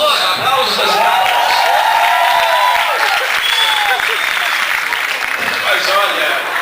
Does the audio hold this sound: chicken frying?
no